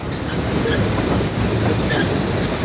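West Side Lumber Shay #9 steam locomotive pulling a train on the Georgetown Loop Railroad, a steady loud rumble of wheels and cars rolling along the track with faint metallic squeals overhead.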